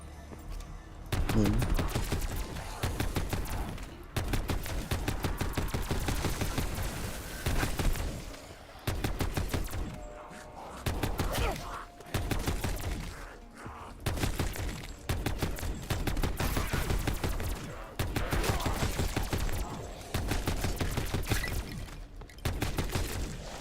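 Automatic gunfire in the Black Ops 4 zombies map Voyage of Despair, long rapid bursts of shots repeating with short pauses between them, loud and close throughout.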